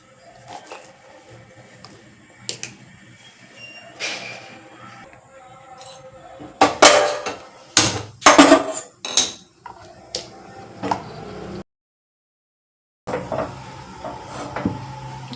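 A pot of lentils, salted for Karnataka bassaru, is set down on a gas stove. A close cluster of clattering metallic knocks and thumps rises in the middle, with quieter handling sounds around it and no talking.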